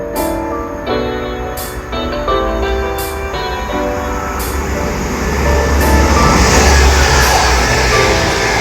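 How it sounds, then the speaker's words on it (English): A Northern class 195 diesel multiple unit passes through a station on a service to Leeds from Chester, its loud engine and wheel rumble building steadily with repeated sharp rail clicks, no voices over it. "195102 passes through with the Northern service to Leeds from Chester."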